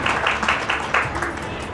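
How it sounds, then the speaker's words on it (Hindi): Applause from the crowd at a Holi celebration marking two years of a Lucknow media group, as a guest is called forward; brief dense clapping heard alongside a voice speaking. "जोरदार तालियां होंगी।"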